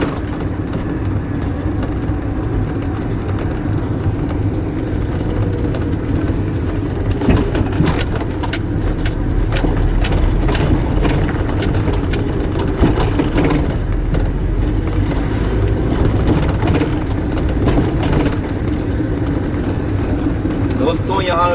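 Car driving through heavy traffic, steady engine and road rumble with surrounding vehicle noise beneath continuous talking.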